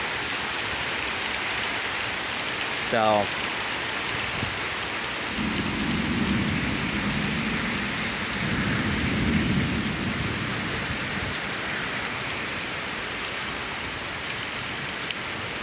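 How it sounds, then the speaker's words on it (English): Heavy rain pours steadily during a severe thunderstorm in Pittsburg, Kansas, while a long, low rumble of thunder rolls through the middle and a voice speaks a single word. "So there's heavy rain, but there's like heavier rain than this."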